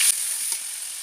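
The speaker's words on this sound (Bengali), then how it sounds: "আমি এখন পেঁয়াজ বাটা দিয়ে দেব" Onion paste dropped into hot oil in a pan, a steady bright sizzling hiss that flares briefly at the start and then settles into an even, close crackle.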